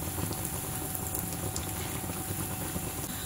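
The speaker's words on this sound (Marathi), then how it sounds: "आपण ही भजी फुल गॅसवर तळतोय।" Mixed dal bhaji deep-frying in hot oil over a full flame, a steady dense bubbling sizzle that runs continuously and evenly throughout.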